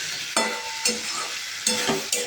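Boiled duck eggs sizzle in hot oil with spices for a duck egg and potato curry, a steady frying hiss broken by four sharp scraping clatters as a spatula stirs and turns them in the pan.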